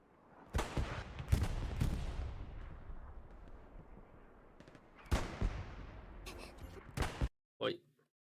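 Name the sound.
rocket launcher fire in a video game (Hell Let Loose, Hurtgen map)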